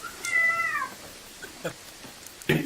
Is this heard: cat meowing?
yes